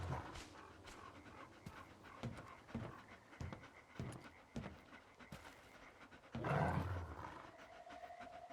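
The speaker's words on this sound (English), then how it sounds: "And there's dudes? Or are those dogs?" Dogs panting and growling in the video game S.T.A.L.K.E.R. 2, a run of short breathy pants and rough snarls close by over a low ambient rumble, with a louder growling burst near the end.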